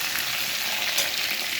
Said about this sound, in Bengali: এখানে পটলটা তো ভাজাই হচ্ছে